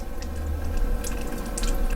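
A thin, spaghetti-width stream of water pours steadily from the spout of a Chanson Miracle M.A.X. water ionizer. It makes a soft, continuous splashing close by.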